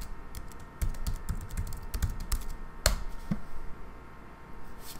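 A password is typed on a computer keyboard in quick, uneven bursts of close, crisp key clicks, with one sharper tap partway through and a short pause near the end.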